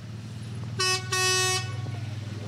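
Large truck horn blaring at a Veterans Day parade in Birmingham: two loud, close blasts, a short one then a longer one, over a rumbling engine and crowd noise.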